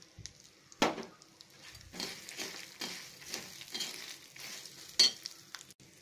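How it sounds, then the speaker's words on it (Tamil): Coconut fries in a pan with roasted urad dal and dried red chillies for a chutney, giving a steady close sizzle broken by several scraping stirs and one sharp clack near the end. "இப்போ நம்ம தேங்காவை சேர்த்துக்கலாம்."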